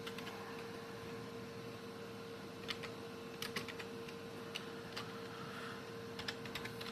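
Computer keyboard typing during web development coding, soft scattered keystrokes and short bursts of clicks over a steady background hum, no talking.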